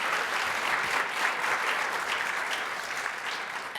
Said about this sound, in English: How about a round of applause to thank Dr. Darney